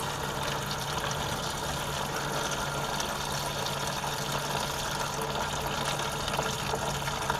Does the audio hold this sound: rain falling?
no